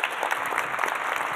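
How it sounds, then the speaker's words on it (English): A brief wash of applause from an audience at a business speaker event honoring a bank CEO, a continuous crackle of many hands with no distinct individual claps. "Everyone, can we please give a round of applause to Jeanne?"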